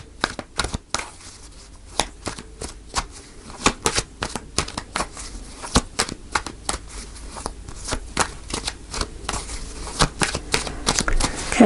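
Tarot cards being shuffled by hand, a steady run of crisp riffling snaps and soft slaps that gradually builds toward a denser, louder flurry near the end, heard close up with no talking.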